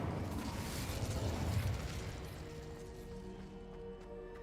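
The Incendio fire spell is cast in Hogwarts Legacy, producing a loud whooshing burst of flame that swells and then fades into a lower rumbling tail with faint tonal game sounds.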